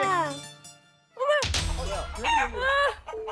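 A native Korean rooster crows loudly and close by, with a long rising call, while other fowl cluck and people talk nearby during a village chicken-catching call-out.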